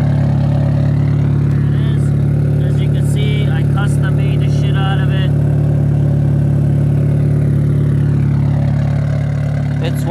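A Mitsubishi Lancer Evo 9 idling through its aftermarket exhaust, a steady low drone with a deep rumble that holds constant throughout, while faint clicks and brief tonal chirps pass in the background.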